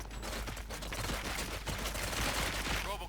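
Gunfire in the RoboCop Rogue City video game, a loud, dense volley of shots and bursts that runs continuously for about three seconds.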